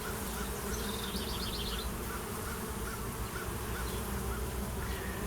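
Honeybees buzz steadily at a hive entrance outdoors, a dense continuous hum of many insects with faint passing tones above it.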